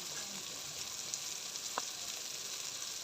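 Spices fry in a pan with turmeric and coriander powder for a vegetarian potato curry, a steady close sizzle broken by a few light stirring knocks, with no speech.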